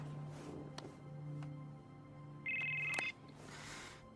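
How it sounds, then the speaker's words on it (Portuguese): A mobile phone ringtone in a Supernatural scene sounds a short steady electronic tone for about half a second, rising above quiet background music and room ambience. "Sam atende o celular de Dean para encontrar seu pai"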